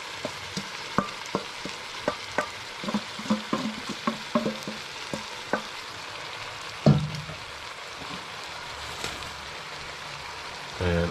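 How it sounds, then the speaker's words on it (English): Chicken pieces fry in a pan with marinade for Kenyan kuku paka, giving a steady sizzle with repeated sharp stirring clacks and pops, close and fairly loud, with one louder clatter partway through. "once that chicken's been frying for a few minutes, I'm going to add the rest of my marinade"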